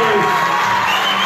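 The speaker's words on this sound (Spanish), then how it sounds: "Fuerte los aplausos" A crowd at a political campaign launch in Posadas, Argentina, for a councillor candidate alongside the mayor, cheering and applauding loudly in a dense, continuous roar with shouts mixed in.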